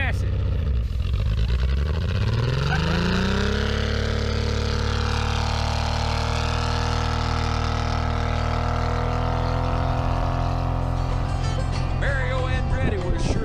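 The engine of a rusty Datsun 280Z revs at full throttle, climbing steeply over a few seconds and then holding a loud, steady, high-revving drone up close.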